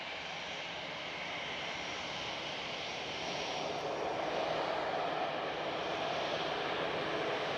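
A propeller aircraft resembling a Pilatus PC-12 at Edinburgh Airport gives a steady, broad engine drone that grows slightly louder and nearer toward the end, heard alone.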